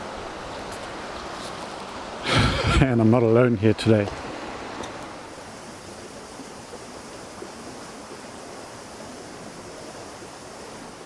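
A waterfall on the Crocodile River near its source roars as a steady broadband rush of water, with a voice briefly speaking over it before the torrent continues alone.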